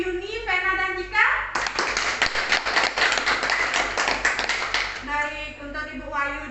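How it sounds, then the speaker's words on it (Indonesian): Group of people clapping hands together in a classroom session, a dense burst of claps lasting a few seconds, with speech just before and after. "Oke, tepuk tangan dulu untuk Ibu Yuni, Vena, dan Jika."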